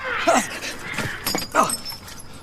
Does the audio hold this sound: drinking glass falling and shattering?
yes